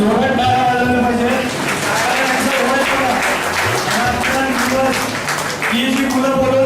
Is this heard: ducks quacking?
no